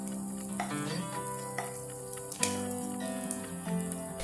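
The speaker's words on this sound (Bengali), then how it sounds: "পেঁয়াজটাকে হালকা করে ভাজব।" Onions frying lightly in a pan for a Bengali drumstick leaf stir fry, a steady soft sizzle and crackle running throughout with small clinks, no talk.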